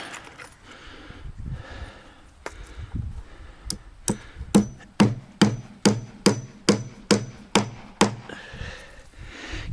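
About a dozen sharp hammer strikes ring out at an even rhythm while an industrial cart table is built, preceded by softer taps and handling noise, close and clear.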